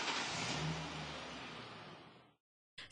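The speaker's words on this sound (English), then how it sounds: "The vehicle must be started before the countdown reaches zero" A car engine fires up and revs loudly after a breathalyzer ignition interlock test is passed, the roar slowly easing over about two seconds before cutting to silence, then a brief burst of engine noise returns at the end.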